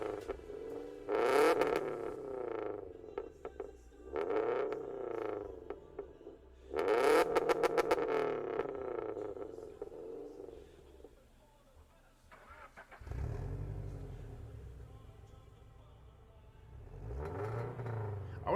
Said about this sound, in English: Because obviously we want to have a louder exhaust.